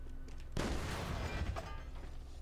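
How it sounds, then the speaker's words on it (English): Sudden burst of automatic sniper rifle fire in The Bourne Conspiracy video game, a dense rumbling fusillade of overlapping shots that starts abruptly and continues loud and sustained. "It's like a automatic machine gun sniper rifle."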